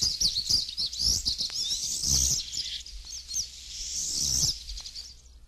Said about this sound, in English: Pine Siskin